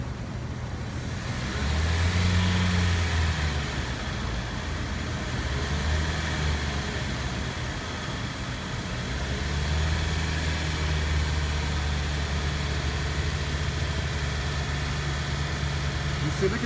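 A car with a misfire from a bad injector runs at a raised idle near 1500 RPM, its low engine drone loud and continuous with uneven pulses, while people talk over it.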